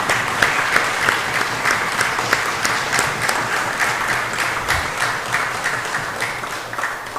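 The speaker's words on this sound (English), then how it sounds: "a round of applause for the service of Mr." Sustained applause fills a session of Belize's House of Representatives, the National Assembly, honouring a retiring official at his last sitting; steady dense clapping from many hands in a large chamber, with no speech over it.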